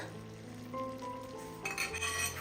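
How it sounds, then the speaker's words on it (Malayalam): Asafoetida powder is stirred into heated vinegar in a pan, making a brief soft scrape and light sizzle, close and quiet, with no voices. "കായപ്പൊടിയും കൂടെ ചേർത്തിട്ട് ഒന്ന് ഇളക്കി കൊടുക്കുക"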